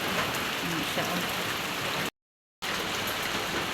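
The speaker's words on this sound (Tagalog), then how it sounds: "Kalit lagbunok ang ulan guys." Steady rain falls hard on a surface at night, an even close hiss that drops out briefly in the middle before resuming.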